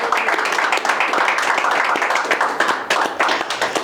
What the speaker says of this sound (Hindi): तो एक बार तालियां बजाओ यार, पहली बार आया।